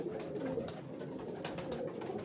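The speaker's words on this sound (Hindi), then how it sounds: "ये कबूतर आप देखें" Pigeons of a prized breed coo softly on a Lahore rooftop loft, a steady low murmuring that runs through the whole stretch with no talk over it.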